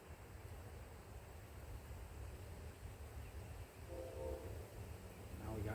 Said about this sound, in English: now we got trains